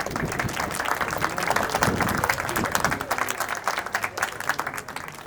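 A crowd at a foundation day ceremony breaks into loud, sustained applause, dense clapping from many hands that holds steady throughout and thins slightly toward the end.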